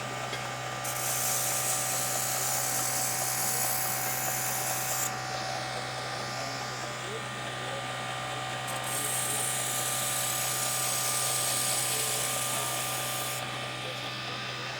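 A knife bevel being ground on a sharpening jig makes a steady, loud buzzing whine with mechanical clicking, broken by shifts in pitch as the grinding passes change.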